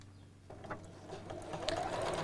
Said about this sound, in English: Then we'll sew right sides together, just around the bottom.